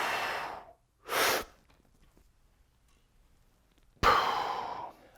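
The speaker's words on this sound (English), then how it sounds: "I'm going to take a big breath in before I go." Loud sharp breaths and exhales by a lifter bracing before a heavy gym lift, a long exhale, a quick forceful inhale, then after a pause another strong rush of breath, close to the microphone with no talking.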